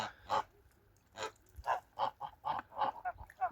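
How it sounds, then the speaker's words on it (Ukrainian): A goose standing at the back of a farmyard honks repeatedly, a series of close, loud nasal calls in quick irregular succession with no talking. "Гусочка ось ззаді стоїть біля комогора."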